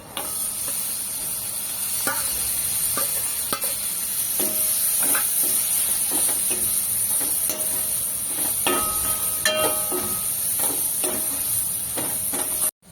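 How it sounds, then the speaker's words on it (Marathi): Bombil, Bombay duck fish, sautéing in spiced oil in a village-style curry, a loud continuous close sizzle with a bright hiss, broken by repeated scraping and clinking of a spatula stirring the pan. "याच्यामध्ये लगेच हे बोंबील परतून घेते"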